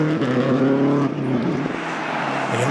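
A Subaru S12 rally car on a closed stage at the 2011 Rally of the Lakes, its loud engine droning steadily nearby with shifting tone as it drives past.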